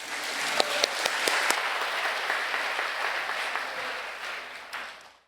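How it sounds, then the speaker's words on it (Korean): Warm applause from a church retreat audience greets the association's president as he comes up to speak, a dense wash of clapping with a few sharper claps early, gradually fading away at the end. "우리 회장님 나오셔서 인사 말씀이 있습니다. 박수로 맞이하겠습니다."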